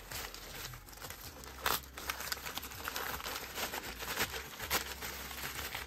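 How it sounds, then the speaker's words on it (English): Plastic zipper bag from a package for a MacBook Air M1 cover crinkles and rustles steadily up close while being handled, with a few sharper crackles and no talking. "we first see that it comes in a plastic zipper bag"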